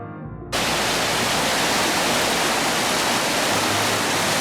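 After a brief quiet moment, a sudden dense hiss of heavy rain starts at the start of a hike in Idaho and pours steadily, loud and unbroken.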